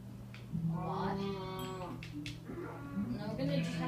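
Cows in Minecraft give a few drawn-out, mid-pitched moos over a steady low background hum, fairly close and clear.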